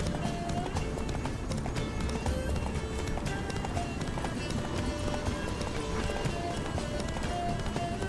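Horse hooves in The Witcher 3 drum in a fast, steady galloping rhythm, close and continuous beneath a dense wash of background sound.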